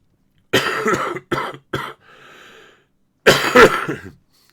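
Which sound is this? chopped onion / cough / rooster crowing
cough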